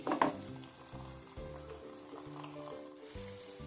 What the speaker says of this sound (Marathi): टिक्की मात्र दोन्ही साइडने लो फ्लेमवर कुरकुरीत फ्राय करायची।